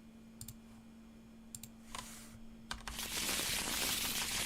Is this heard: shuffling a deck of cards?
yes